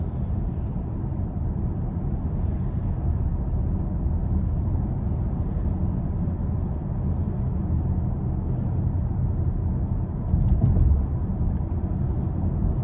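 A 2018 Genesis G80 5.0 Ultimate cruising at 50 mph: a steady, continuous low road-and-engine rumble from inside the cabin with no talk, plus a brief louder bump near the end.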